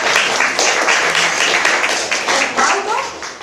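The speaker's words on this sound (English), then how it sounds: "let's give a round of applause to Miss Sarah and Margot" An audience at a winter music school recital gives a loud, full round of applause. Many hands clap in a dense, steady patter that eases slightly toward the end.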